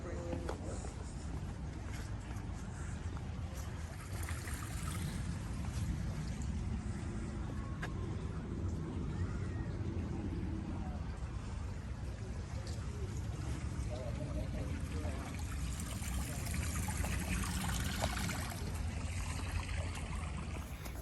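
Steady rushing of a waterfall near a pagoda and small bridge, a continuous broadband wash heard from fairly close, with people talking over it at times.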